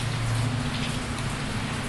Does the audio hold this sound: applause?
no